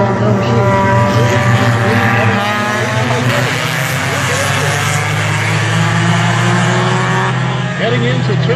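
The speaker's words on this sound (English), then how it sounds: "35 green flag laps for the mini stocks here at Speedway." Mini stock race cars circle the oval at Speedway Miramichi, their engines droning loud and continuous as a pack, with a commentator's voice running over the steady roar.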